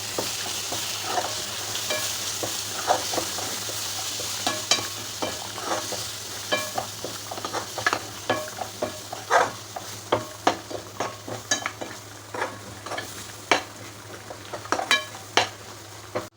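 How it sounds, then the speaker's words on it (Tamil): Masala with chili powder sautéing in a pan for a home lunch, a soft continuous sizzle under repeated close scrapes and taps of a spoon stirring, rhythmic and getting busier toward the end. "நல்லா வதக்கி விடலாம்"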